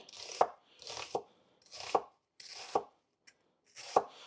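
Knife blade chopping celery and onions on a cutting board, five or six distinct thuds spaced roughly evenly with short gaps, close and fairly quiet, no voices.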